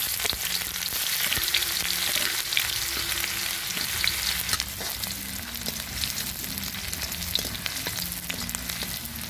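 Onion frying in hot mustard oil in a kadhai, with cumin and a whole red chilli, gives a steady, close sizzle with crackling pops throughout and an occasional stir.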